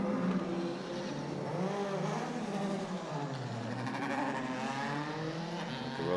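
Several race cars rolling around a circuit on the formation lap at an ICCR race, engines droning together in a steady, moderately distant wash of sound with rising and falling tones and no clear pauses.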